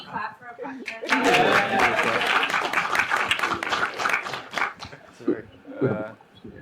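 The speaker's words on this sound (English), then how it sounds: "Can we clap for a" An audience at a panel on responsible technology investment breaks into applause that swells quickly, holds briefly, then thins into scattered claps as voices and chatter return.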